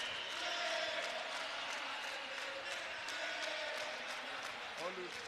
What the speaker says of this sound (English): You can see the Zambian crowd are just cheering on the girls